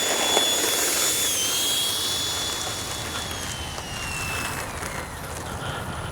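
An E-flite Viper 64mm electric ducted-fan RC jet running, a loud steady rushing whoosh with a thin high whine that slides down in pitch, close by and alone.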